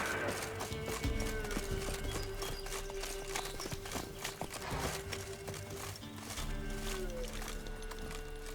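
In The Witcher 3, the horse Roach gallops with fast, steady clip-clop hoofbeats close by, over sustained tonal game music.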